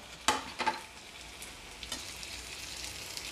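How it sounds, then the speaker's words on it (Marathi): Chopped onion and garlic sizzling in a pan while being stirred for Marathi kandyachi bhaji, with a few sharp scraping clicks early on over a soft, constant frying hiss. "आता आपण पुन्हा कांदा आणि लसूण एकत्र करूया।"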